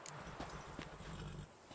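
Horse in The Witcher 3 video game, heard as faint hoof clip-clops and snorting sounds beneath a dense, noisy game soundscape.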